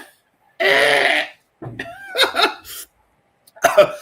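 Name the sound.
person coughing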